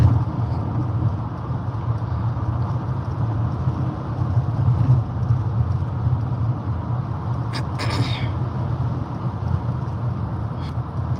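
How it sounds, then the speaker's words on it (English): A car rolls along the road with a steady low engine and road rumble inside the cabin, broken by a faint brief rattle near the end, with no talking. "I have been driving this whole time"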